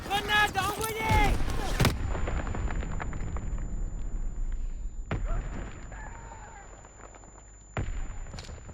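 A grenade goes off in the Call of Duty WWII battlefield with a sharp, booming blast, then two more sudden explosive hits follow through the quieter game noise. A voice talks at the start.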